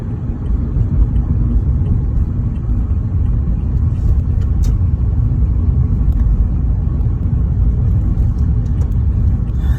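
A car drives through a left turn at a traffic light near Port Union. Heard from inside, the engine and road rumble stay steady and close, with no talking.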